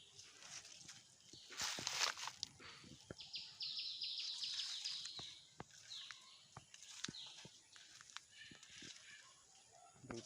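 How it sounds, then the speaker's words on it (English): Birds sing in a green outdoor place on a Sunday morning, with faint, scattered chirps amid nearby footsteps, rustling plastic and sharp clicks. "Here is a beautiful bird sound."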